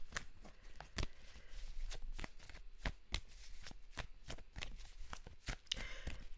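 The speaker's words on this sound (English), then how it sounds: "Let me pull 3 cards out on it." Tarot-style cards being shuffled and pulled for a reading, a quiet close run of soft riffling flicks and sharp snaps scattered irregularly across several seconds.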